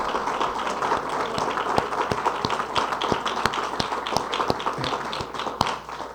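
Audience at a rent stabilization bill signing press conference applauding, a sustained patter of many hands with sharp individual claps standing out, moderately loud and continuous.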